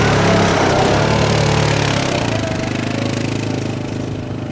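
Engine of a Cougar RP Mountain Lion 600 side-by-side UTV driving near its top speed of about 50 km/h, a steady loud drone with a broad roar that eases slightly after midway.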